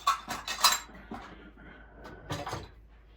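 Ground coffee scooped with a small scoop into a County Line Kitchen glass cold brew filter, giving a few close clinks and scrapes of metal on glass in separate bursts.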